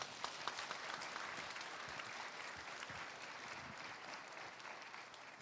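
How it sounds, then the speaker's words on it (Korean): Church congregation applauding together after a missionary's pledge at a Korean worship service, a dense steady wash of many hands clapping, sustained and even throughout at a moderate distance with no voices. "박수 한번 해주세요."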